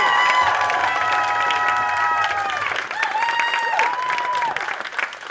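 Loud audience applause and cheering greet a comedian walking on stage at a Comic Relief stand-up show, a dense continuous roar of clapping with whoops and shouts, holding steady for several seconds.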